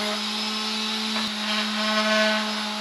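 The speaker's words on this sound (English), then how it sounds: "So now it's just a bunch of sanding from my top, my bottom, and my bifold door" A loud, steady machine whine of a power sander runs continuously with a strong hum, its pitch wavering slightly as it works across wooden boat panels and a bifold door.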